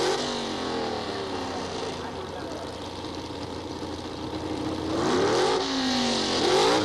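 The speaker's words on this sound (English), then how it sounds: "now the dragster starts to come on" Drag racing at the 1976 NHRA Gatornationals: a 1974 Vega and a dragster roar off the line in a handicap start, engines droning loudly and then climbing in pitch as they accelerate, with a commentator talking over them.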